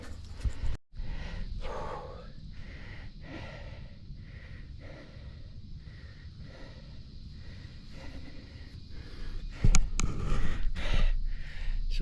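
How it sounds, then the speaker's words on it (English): Heavy, rhythmic breathing of a hiker climbing a steep nature trail, close to the microphone, with repeated gasping exhalations and a louder burst near the end. "Sorry about the breathing, guys."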